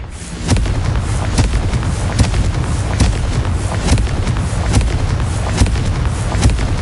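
Repeated sharp magical blasts of the Confringo explosive spell in Hogwarts Legacy, a dozen or so loud cracking bursts in an irregular rhythm over a continuous rumbling combat backdrop, no voices.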